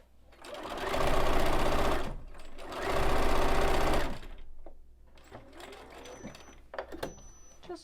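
Sewing machine stitching a table runner and reversing a couple of stitches, two loud sustained runs of rapid stitching close up, followed by quieter handling clicks.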